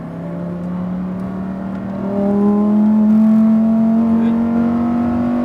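A Lamborghini Huracan STO engine accelerating on the Las Vegas speedway, its loud, close tone climbing smoothly as the throttle opens and swelling louder halfway through, with one short spoken word.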